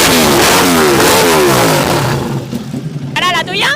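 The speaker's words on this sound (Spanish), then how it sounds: "¿Cuánto suena tu moto?" A motorcycle engine revs nearby with rising and falling whining pitch sweeps, loud at first and then easing, followed by a sharper burst of revving at the end, with people talking over it.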